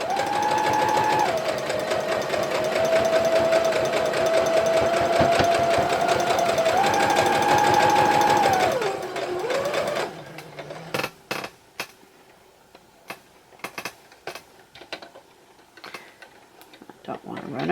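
A sewing machine stitching quilt block fabric whirs steadily and loudly for about nine seconds, then stops, leaving scattered light clicks and handling taps.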